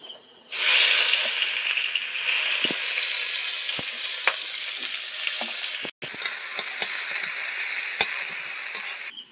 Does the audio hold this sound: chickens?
no